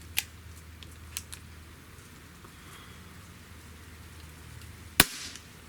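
A Smith & Wesson 78G CO2 pistol lets off a single sharp, loud shot near the end, preceded by a few small faint clicks in an otherwise quiet room.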